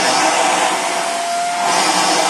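A Dirt Devil 360 Reach Pro bagless stick vacuum runs with a loud, steady motor whine and airflow hiss up close, dipping slightly in pitch midway before rising again.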